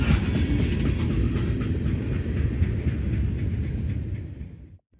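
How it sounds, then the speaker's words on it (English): A long Norfolk Southern intermodal freight train rolls westbound at night through London, Ohio, a loud continuous rumble with rattling cars and faint clickety-clack that holds steady, then fades and cuts off abruptly near the end. "NS 239, a daily intermodal train from Columbus, Ohio to Cincinnati, Ohio, heads westbound under the nighttime sky at London, Ohio"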